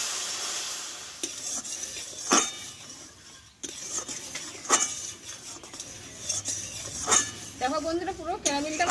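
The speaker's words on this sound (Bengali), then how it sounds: "দুধটা দিয়ে ভালোভাবে আমি নাড়িয়ে নেব।" A spoon stirs milk into caramel in a pan, giving soft scraping and sizzling with a few sharp clinks of metal against the pan, and a voice speaks briefly near the end.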